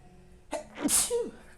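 A single sharp sneeze, close and loud, with a quick inhale beforehand and a short voiced trailing sound after.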